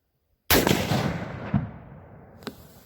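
A Mossberg Patriot 7mm magnum rifle fires one loud, sharp shot at a jug of ice outdoors. A long rolling echo fades behind it, with a couple of fainter thumps and cracks trailing off.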